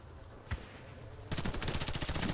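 Gunfire from a small gun in the Warface shooter game: a single sharp shot, then a fast, steady burst of automatic fire close by, with no talking.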